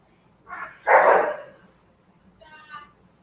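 A dog gives a few sharp barks, a short yip followed by one loud bark and then a softer bark or whine, fairly close in a quiet backyard setting.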